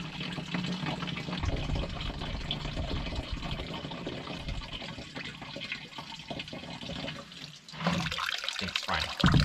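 Coolant pours out of a Soviet bulldozer during a water pump repair, a continuous splashing trickle of liquid that briefly drops away near the end before gushing again.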